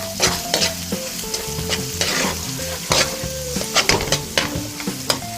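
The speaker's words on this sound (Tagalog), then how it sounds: "Lulutuin lang po natin yung ating sibuyas." Red onion and garlic frying in a pan, bright crackling sizzle broken by frequent stirring scrapes and clanks of a utensil, close up with no talking.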